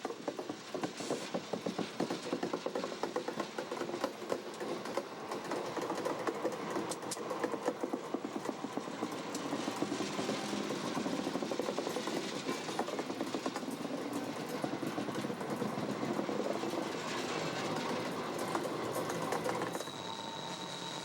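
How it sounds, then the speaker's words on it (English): Steel train wheels creak and squeal against the rails as a freight train rolls slowly past on a sharp Appalachian curve, a continuous rattling, clanking ride heard from nearby. "the only thing to be heard is the creak of steel wheels on steel rails"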